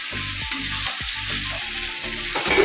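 Chicken fries in oil with turmeric, a loud, steady sizzle with rhythmic stirring strokes scraping through it, close up and without talk.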